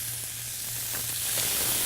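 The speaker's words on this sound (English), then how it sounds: "the sizzle once it hits the pan" Veal chops sizzle on a preheated grill plate in a pan, a steady close frying hiss with faint crackles throughout and a low hum beneath, with no talking.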